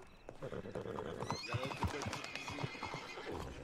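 A horse whinnies loudly while its hooves clip-clop in uneven steps close by, with faint voices in the background.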